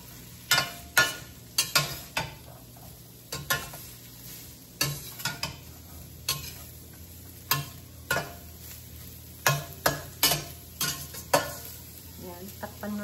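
Carrots stir-fried in a wok-style pan for pancit canton guisado: a steady sizzle under repeated sharp scrapes and clacks of a utensil against the pan, close and fairly loud.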